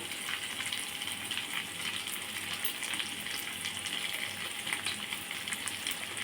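Prawns frying in a pan for a home-style Telugu prawn curry, with a steady, fairly quiet sizzle and crackle throughout and no voices.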